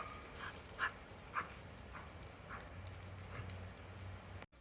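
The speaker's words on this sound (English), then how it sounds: "Can spend some time barking at the neighbors." Faint dog barks and yips come from a distance, scattered irregularly over a constant low background hum.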